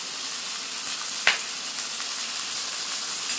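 Katla fish fat fries in a pan with salt, ginger paste and turmeric. A steady, close sizzle runs throughout, broken by one sharp tap from a utensil, and no one speaks.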